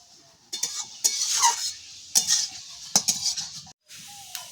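Grated carrot for carrot halwa being lightly turned in a pan, with soft sizzling and a handful of short scraping strokes of a spoon against the metal, close up with brief pauses between.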